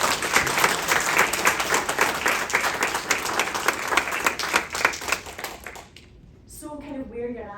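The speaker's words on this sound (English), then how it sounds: "a round of applause" An audience at an entrepreneurship talk applauds with dense, steady clapping for about six seconds, which then fades as a voice begins speaking.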